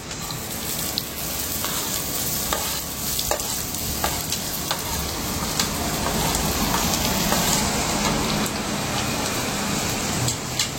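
Chopped onion drops into hot oil in a pan for dim bhujiya, and a dense, steady sizzle and crackle follows, loud and close, with occasional stirring scrapes and no talk.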